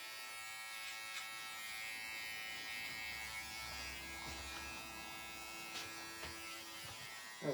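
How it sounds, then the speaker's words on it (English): Andis hair trimmer buzzing steadily and softly through a layered bob haircut, a continuous electric drone with faint clicks of handling and no talking. "I'm using my Andis trimmer"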